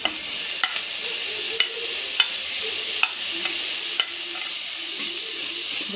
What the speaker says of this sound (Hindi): एक मिनट तक हम इसको भून लेंगे, उसके बाद हम इसमें टमाटो डाल देंगे।